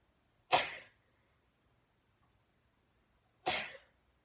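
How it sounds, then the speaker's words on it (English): Two sharp sneezes burst out about three seconds apart, close and loud, with near silence between them. "I think I'm going to sneeze."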